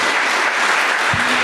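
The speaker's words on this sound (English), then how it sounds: "how about one more round of applause for David Howard Thornton and Damien Leone." Audience applause closing a horror film convention panel, a loud even burst of clapping from a packed room, with a short low thump near the end.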